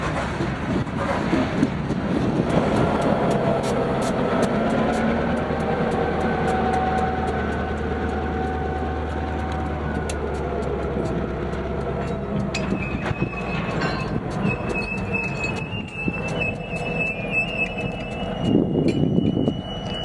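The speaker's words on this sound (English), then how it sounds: "a yard job with a different locomotive came through, with Union Pacific 555 leading, a GP 38-2." A Union Pacific GP38-2 locomotive on a yard job rolls past with railcars, making a loud, steady rumble with clattering wheels and metallic squeals that rise toward the end.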